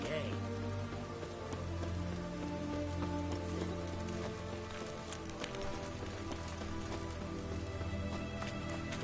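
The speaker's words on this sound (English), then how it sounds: "Looks like rain" Steady rain pattering on surfaces in The Witcher 3 game world, a continuous wash of drops running the whole stretch beneath layered ambient music and a low drone, with occasional speech.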